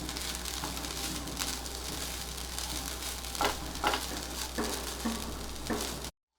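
Fresh grated coconut roasting in a hot pan makes a constant close sizzle and hiss, with scattered scraping taps as it gets stirred. No one speaks.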